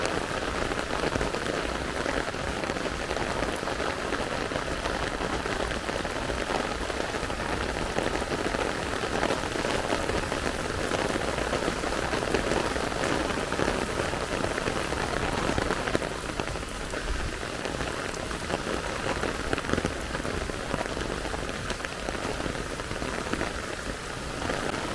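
Heavy rain pours steadily on the White House airport strip in Montego Bay, a dense, constant hiss of drops on the surface that holds even and loud throughout with no voices.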